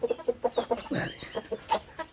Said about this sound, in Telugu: ఆల్రెడీ ఒక కోడి కూడా కొక్కుతుంది